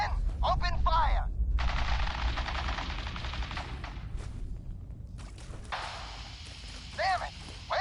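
Rapid automatic gunfire from a Fallout 4 firefight rattles in long bursts, with sharp cracks, whooshes and shouted voices mixed in.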